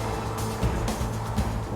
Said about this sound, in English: the engine noise from the other car, I can hear from inside here